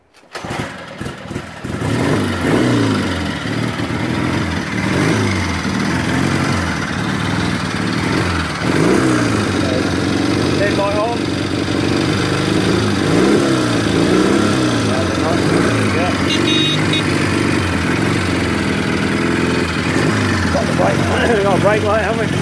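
A 1958 Velocette Valiant 200cc motorcycle engine starts and settles into a steady, loud running beat close by, continuing without a break for the whole stretch.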